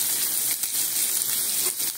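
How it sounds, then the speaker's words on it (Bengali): Garlic and onion fry in hot oil for red amaranth greens, giving a steady bright hiss of sizzling with small crackles, close and alone. "তেলের মধ্যে প্রথমে দেব রসুন, তারপরে পেঁয়াজ"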